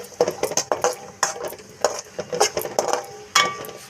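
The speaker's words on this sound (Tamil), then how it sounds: "கொஞ்சம் நெய்யில் வறுத்துக்கலாம்." Cashews and raisins fry in ghee in a pan for sheer khurma, with a spoon stirring and clinking against the metal in quick, uneven taps, close by and alone.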